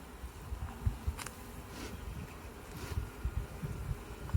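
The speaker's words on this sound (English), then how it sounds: "And loads of bees there." Honey bees buzz around an open beehive during an inspection, a faint, continuous hum broken by soft bumps and handling noises nearby.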